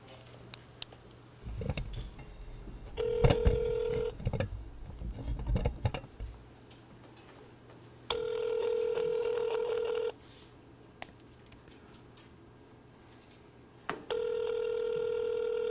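A phone call being placed: a burst of keypad taps and dialing tones, then repeated long ringback tones with pauses between them, heard from a speakerphone in a quiet room.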